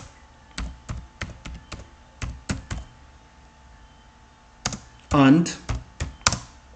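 Typing on a computer keyboard comes in quick clusters of crisp, close keystrokes separated by short pauses, and a voice speaks briefly between the later bursts.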